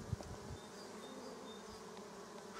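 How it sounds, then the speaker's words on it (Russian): A settled honeybee swarm that has moved into a hive hums with a steady, close buzz, holding an even drone from start to finish. "Пчелки работают."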